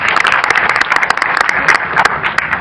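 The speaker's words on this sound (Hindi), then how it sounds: "एक बार हमारे सारे एंकर्स के लिए जोरदार ताली।" A comedy-show audience bursts into vigorous applause for the anchors, a brief, loud patter of many hands with crisp separate claps cutting through the dense clapping.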